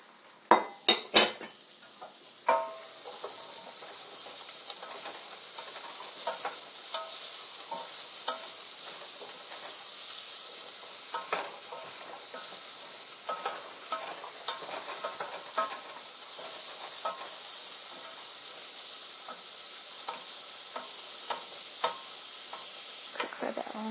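Celery stalks and a large carrot sizzle in a pot over turned-up heat while a utensil stirs them, with a few sharp clinks against the pot at the start and then a steady, soft frying hiss throughout.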